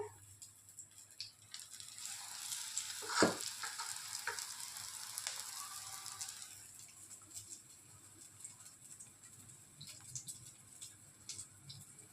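Boondi batter is poured through a sieve into hot oil, making a loud, bubbling sizzle that swells early and then settles into a lighter, steady crackle while a voice talks over it.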